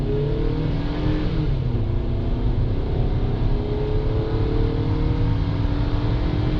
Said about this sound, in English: just to show you guys what the acceleration is like.